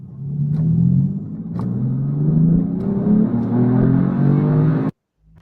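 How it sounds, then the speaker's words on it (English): Car fitted with two Northstar V8 engines, one in the front and a second in the back, revving loudly with a rising, droning engine note for about five seconds before cutting off abruptly. "So this has two North Star engines, the regular one in the front"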